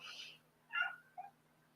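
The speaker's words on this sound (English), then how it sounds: "No, my cat's crying outside." A cat crying outdoors, two short plaintive meow-like cries, faint and distant over a quiet background hum.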